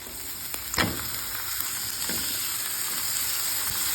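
Dalia being stirred and fried in ghee with ginger, cashews and raisins, a steady close sizzle with a few scraping stirs of the spoon, no talking.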